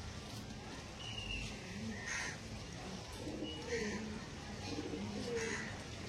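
Pure Andhra pigeons coo softly in low, repeated bursts at a moderate distance, with a few sharper bird calls and faint voices nearby.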